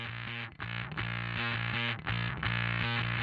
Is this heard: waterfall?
no